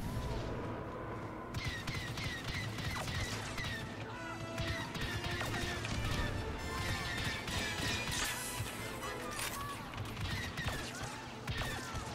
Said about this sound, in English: Oh god, bombs.